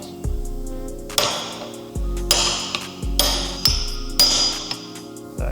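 A hammer taps a bearing into an Iveco Eurocargo king pin, about five sharp metallic strikes at roughly one-second intervals, each ringing briefly, close and loud.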